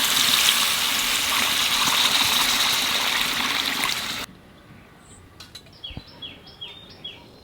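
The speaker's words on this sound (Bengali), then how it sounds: "কুমড়ো একটু বাজিয়ে নিয়েছি, এখানে জল দিয়ে দেবো।" Water pours into a pan of lightly fried pumpkin being cooked with prawns, a loud close rushing splash that stops abruptly, followed by quiet sizzling and faint clinks.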